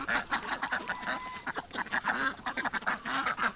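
Geese, among them a gander, keep up a stream of quick, clustered honks and cackles, many birds calling at once at close range, with no voices over them.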